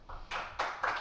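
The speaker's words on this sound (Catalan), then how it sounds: "Un fort aplaudiment per a totes elles, per favor." Three or four distinct, separated claps at a podcast recording, sparse and fairly soft, from a small group rather than a full crowd.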